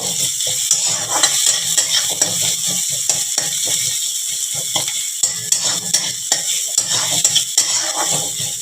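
Chopped chillies fry in a pan for semolina upma, a bright sizzle running under repeated scraping and clinking of a spoon stirring against the metal, close and lively.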